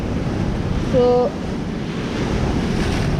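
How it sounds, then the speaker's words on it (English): Ocean waves roll onto the shore along South Africa's Garden Route at high tide, a constant loud rushing surf mixed with wind buffeting the microphone, while a voice briefly says a word. "Look at the waves. They're nice for surfing."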